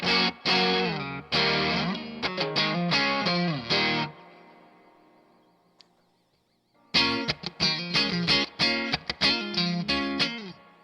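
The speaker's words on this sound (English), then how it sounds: "I like the distortion, the overdrive lower. Right now it's set at about 9 o'clock." Electric guitar through a Warhorn overdrive pedal set to low gain, around 9 o'clock, plays choppy chords and riffs, pauses to let a note ring out and fade, then resumes.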